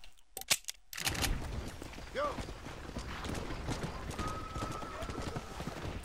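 Hooves clatter at a gallop with a brief whinny in Red Dead Redemption, set against the game's outdoor ambience and rain-like hiss; a voice speaks briefly early on.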